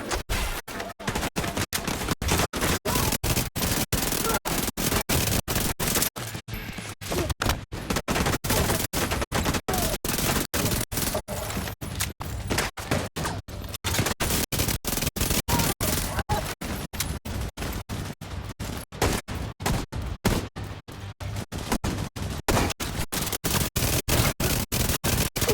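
Shotgun fire from The Division 2 pounds out in a dense, relentless barrage, blasts landing in quick succession for the whole stretch, loud and close with overlapping booms and no pauses.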